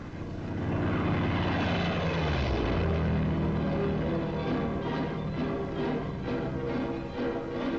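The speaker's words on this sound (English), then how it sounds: "Fighter pilots return from missions at a rocky airfield." WWII fighter planes come back to a rocky airfield, their piston and propeller engines roaring loudly and steadily close by, with one pitch sweeping down as an aircraft passes, on a 1944 German newsreel soundtrack.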